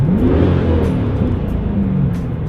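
A Chevrolet Camaro accelerates past up close with a loud, rising engine note that swells and then holds as the car pulls by.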